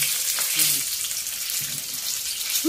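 Chicken pieces frying in hot oil as the skin crisps, a steady bright sizzle filling the pan with a few faint clinks of a utensil, close and continuous with no talking.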